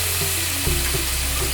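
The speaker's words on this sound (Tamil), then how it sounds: "கட் பண்ண பன்னீரை இந்த எண்ணெயில் போடுறேன்" Cubes of paneer sizzle and fry steadily in hot oil in a kadai, a close, continuous crackling hiss with small pops and no talking.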